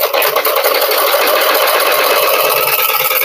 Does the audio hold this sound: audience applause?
no